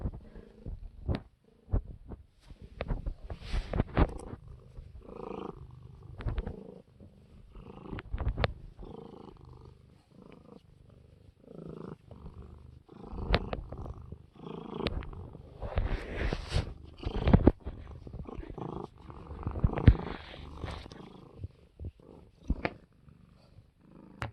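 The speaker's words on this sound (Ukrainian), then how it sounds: "Послухайте це моркотіння." Close, steady cat purring in a soft rumbling rhythm, rising and falling with each breath, with occasional faint rustles.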